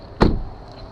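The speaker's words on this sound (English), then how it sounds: "I just opened up the hood" A single solid clunk as the hood of a 2013 Kia Soul is released and lifted, close and sharp, followed by a faint rustle of wind.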